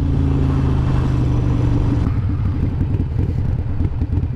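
A motorbike engine idles with a steady low rumble, then the tone shifts to a choppier, uneven putter, loud and close throughout.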